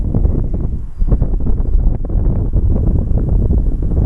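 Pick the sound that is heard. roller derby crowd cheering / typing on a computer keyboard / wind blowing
wind blowing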